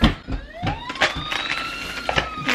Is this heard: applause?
no